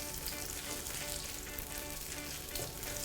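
Curry paste stir-fries in hot oil with a dense, continuous sizzle, close and steady throughout, and a ladle faintly stirs it.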